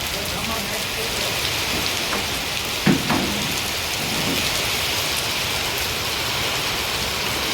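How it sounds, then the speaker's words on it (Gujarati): Heavy rain pours steadily in a rural village during a storm, a dense continuous hiss with one brief low thunder crack partway through. "અત્યારે જો હજી વરસાદને વીજળીના કડાકા ભડાકા ચાલુ જ છે અમારે."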